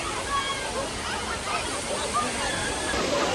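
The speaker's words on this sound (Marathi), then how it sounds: "इकडे धबधबा" Steady rushing water of the Bhaje waterfall in monsoon, a dense continuous roar, with faint voices of a crowd mixed into the wash.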